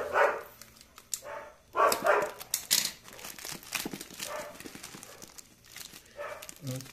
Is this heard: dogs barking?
yes